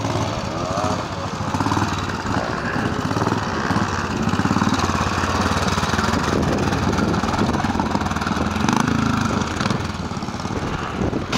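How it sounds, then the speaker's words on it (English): A Royal Enfield motorcycle rides a pre-unit trial section in a quarry, its engine running steadily and loudly throughout, with only small swells in revs and no clear talk. "Royal Enfield."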